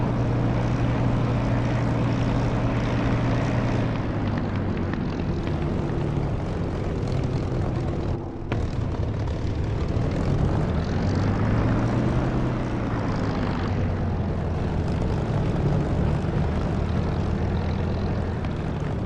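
A Spitfire's piston aircraft engine at takeoff in the DCS flight simulator, a loud, steady propeller drone that holds for the whole stretch, dipping briefly midway and shifting pitch as it climbs, with no talk.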